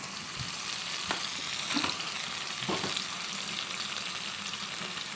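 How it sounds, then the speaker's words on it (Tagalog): Garlic and onion sauté in a pan with beef dish seasoning, a steady broadband sizzle with a few scraping stirs, close and continuous, no voices. "sinabay ko ng igisa ang garlic and onion"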